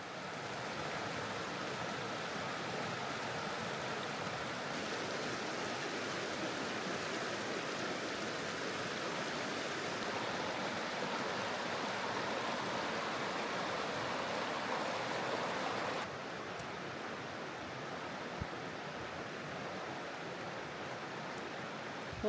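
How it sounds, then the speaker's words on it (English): A river rushes nearby during snowfall in winter Oregon woods, a constant broadband watery roar, soft and steady without pauses. "you can hear the river behind me"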